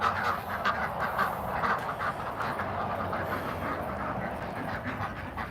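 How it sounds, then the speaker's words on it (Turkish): Ducks quack steadily and loudly at close range during feeding in cold winter weather at a duck-raising farm, a dense continuous chorus of overlapping calls with no talk. "Ördeklere bir yem vereceğim."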